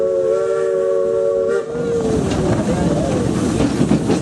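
A Maine Narrow Gauge Railroad steam locomotive's two whistles, one higher and one lower, blow a steady chord, then slide and waver as hissing steam and train noise rise beneath it.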